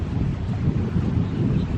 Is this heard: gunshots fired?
no